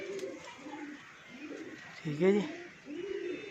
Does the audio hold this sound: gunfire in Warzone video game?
no